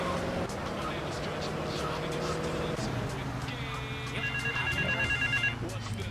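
A payphone rings in the Grand Theft Auto 3 video game, a steady electronic ringing that sets in partway through over the loud hum of a car engine, with game sounds and a voice in the mix.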